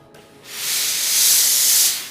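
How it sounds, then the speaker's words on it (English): A Laurastar steam iron releases a loud, close burst of hissing steam onto an ironing board cover, rising quickly and holding for about a second and a half before fading, with no talking. "My steam can easily relax the cover."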